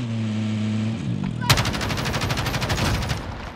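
Rapid video game gunfire erupts at about 1.5 seconds and continues as a dense, sustained burst of shots after a steady low hum, with no talking.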